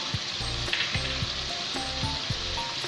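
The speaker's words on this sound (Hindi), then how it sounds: "अब हम इसको भून लेंगे।" Ginger-garlic paste, coriander powder and red chilli powder sizzle steadily in hot oil for an egg curry, with the close, continuous crackle of frying and a few light stirring knocks in the pan.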